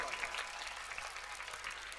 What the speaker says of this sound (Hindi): चलिए, जोरदार तालियों से आपका अभिनंदन है,